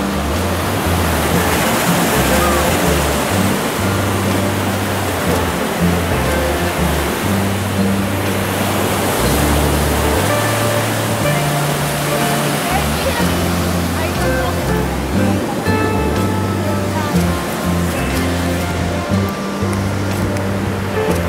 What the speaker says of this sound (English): A good time here at the beach.